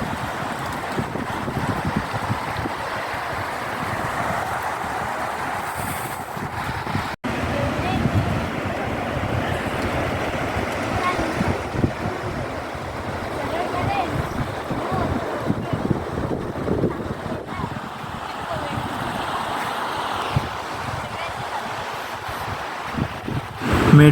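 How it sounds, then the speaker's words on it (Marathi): Wind and surf at Shrivardhan beach make a continuous broad roar, with gusts buffeting the microphone and waves washing in steadily throughout. "आता आपण आलो आहे श्रीवर्धनच्या समुद्रकिनाऱ्यावर"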